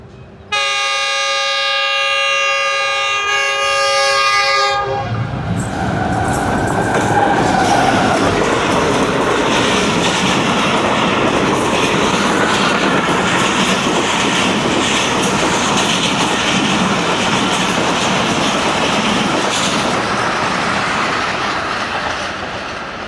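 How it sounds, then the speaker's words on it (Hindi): A train horn blares for several seconds, then a heavy train near Lahore roars past close by at over 100 km/h, wheels clattering steadily and loudly for a long stretch. "ये पहली गाड़ी जो 100+ आ रही है"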